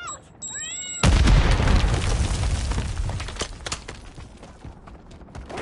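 A grenade detonates in a Call of Duty: Modern Warfare III multiplayer match on the Quarry map, one sudden loud blast with deep rumble, followed by crackling debris and lingering battlefield noise fading over several seconds.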